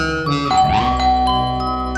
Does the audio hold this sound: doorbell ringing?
yes